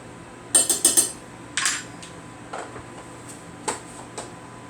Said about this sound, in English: Give this a stir real quick.